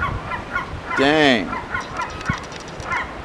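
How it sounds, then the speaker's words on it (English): A baby seagull calls while being fed peanut butter off fingers, one clear rising-and-falling squawk in the middle with fainter chirps around it, and a person speaks briefly. "Feeding baby seagulls peanut butter off my fingers."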